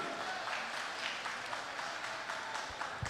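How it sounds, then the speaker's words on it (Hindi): Applause from the audience at a Green Planet annual meet in Goa, a steady, dense wash of clapping that holds at an even level for about three seconds, with no voices over it. "वाह, जोरदार ताली आप लोगों के लिए।"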